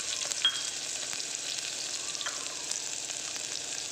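Chopped onions fry in hot oil with cinnamon and other whole spices for channa masala, giving a soft, steady sizzle with small crackles, close by and with no talking.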